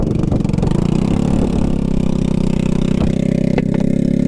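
A scooter engine with a bad exhaust runs steadily at idle, a rough low drone with faint clattering and a few sharp ticks near the end, loud and close with no voices.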